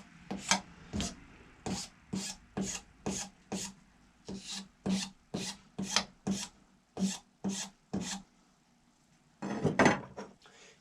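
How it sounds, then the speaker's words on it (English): Hand scraping a chamfer along the edge of a metal ball starter: a run of about sixteen short, even rasping strokes in quick rhythm, close and clear, ending with a longer, rougher scrape. "Even just scrape it down."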